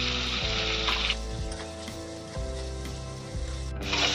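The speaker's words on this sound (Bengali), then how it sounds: "টমেটো একটু ভাজা ভাজা করে নিয়েছি" Chopped tomatoes with salt frying in hot oil left from frying pointed gourd, with black cumin seeds: a steady, close sizzle with brief flare-ups and a few stirring scrapes, loudest at the start and end.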